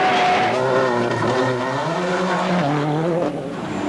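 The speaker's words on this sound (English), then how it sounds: "The Corolla is pushed hard on the next test, pick up time, but amazingly, he drops another 4 seconds on this stage" A Toyota Corolla rally car pushed hard on a slippery stage of a Galway rally, its engine loud and close, revving up and down through gear changes with a brief drop in pitch near the end.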